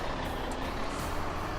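A truck with a full sugarcane trailer reverses in a harvest field, its engine a steady loud rumble under a persistent high backup alarm.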